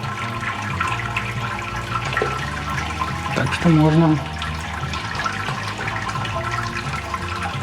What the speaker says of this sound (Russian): Сусло пошло уже такое полупрозрачненькое.